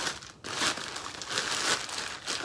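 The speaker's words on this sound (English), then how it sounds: "it comes in a plastic bag" A plastic bag crinkles and rustles up close as it is opened while a new Uberti Remington 1858 New Model Army revolver is unpacked, in short bursts with a brief pause.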